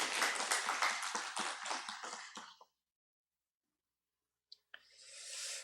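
A church congregation applauding during a Sunday service appointment ceremony, steady dense clapping that tapers off into silence, then a short burst of renewed applause begins near the end.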